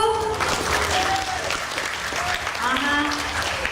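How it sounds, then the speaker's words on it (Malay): Audience applause for teachers at a youth festival in Putrajaya, dense sustained clapping with a voice speaking over it. "Satu tepukan untuk guru-guru."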